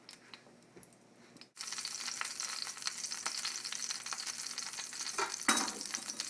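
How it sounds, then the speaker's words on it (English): Hot cooking oil in a pan sizzles loudly after a splash of water is thrown in, a sudden hiss that stays steady and crackling for several seconds, with no talk. "See if it sizzles."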